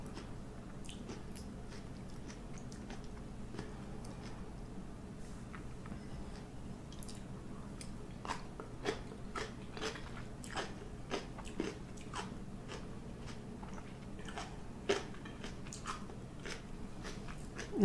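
Steady crunchy chewing of homemade pickled vegetables, peppers and onions in vinegar brine, with repeated close bites and crisp crunches over a faint background murmur.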